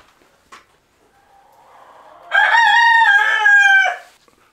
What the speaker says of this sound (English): this Rhode Island Red rooster